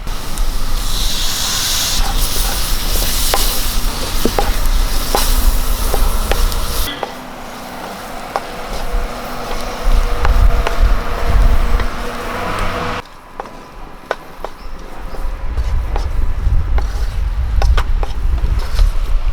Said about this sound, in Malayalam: ഇനി നമുക്കൊരു രണ്ട് ചെറിയ തക്കാളി അരിഞ്ഞു തന്നിട്ട് വഴറ്റി കൊടുക്കും